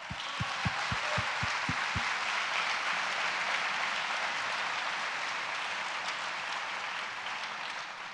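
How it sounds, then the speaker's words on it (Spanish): A church audience breaks into dense, sustained applause that fills the room evenly for about eight seconds, opening with a short run of low, regular thumps. "Un aplauso, por favor, para Dios."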